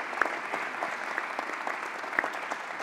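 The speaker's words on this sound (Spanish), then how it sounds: "Por favor, un aplauso para Sonia." Audience at a smart and sustainable mobility awards ceremony clapping steadily at moderate volume, a dense even patter with no voices.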